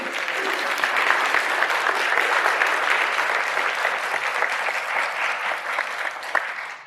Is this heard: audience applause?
yes